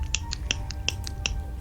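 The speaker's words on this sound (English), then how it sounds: "Because I've got one of those Zippos" A Zippo lighter flicked repeatedly, a series of sharp metallic clicks spaced roughly evenly, close and crisp against a quiet room background.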